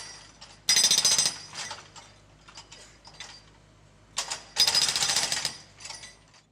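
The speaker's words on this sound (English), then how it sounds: "The digger uses the breaker to hammer into the concrete footpath." A digger's hydraulic breaker hammers into a concrete footpath, with two loud bursts of rapid pounding and scraping separated by quieter mechanical clatter, heard fairly close.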